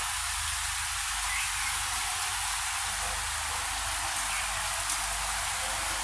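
Heavy rain pouring at dawn, a dense unbroken hiss of drops on surfaces, loud and constant throughout with no voices.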